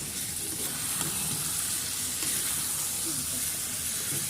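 Potatoes and peas fry in hot oil in a pan, a steady close sizzle and hiss that holds at an even level for the whole stretch, with a faint stirring scrape underneath.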